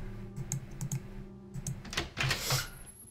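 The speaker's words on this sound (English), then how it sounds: "Can you still hear my mouse clicking?" A computer mouse clicks loudly and rapidly during a Nancy Drew: Treasure in the Royal Tower PC game session. Sharp, close clicks come in irregular bursts over low background hum.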